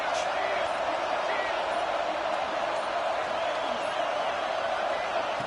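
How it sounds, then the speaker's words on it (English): A stadium crowd in a football video game, a dense, continuous roar of many voices that stays loud and steady throughout. "this crowd is turning it up a notch"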